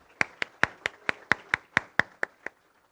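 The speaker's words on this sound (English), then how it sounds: "Give them a big round of applause." Sparse, slow claps from only a few hands at a school declamation contest, about a dozen sharp, distinct claps in an even rhythm that stop abruptly.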